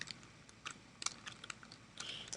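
Faint, irregular clicks of fingers typing on a computer keyboard while entering data into an Excel spreadsheet, with quick keystrokes in a soft, steady patter.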